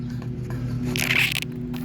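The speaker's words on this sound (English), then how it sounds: "Got a hose here with some water." Water sprays from a garden hose in one brief hissing burst of about half a second, set against a steady low hum while paintballs are cleaned up outdoors.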